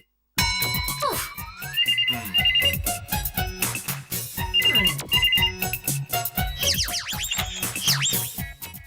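A telephone rings with a loud electronic melodic ringtone in an indoor comedy scene, its bright tune repeating several times with no talk over it.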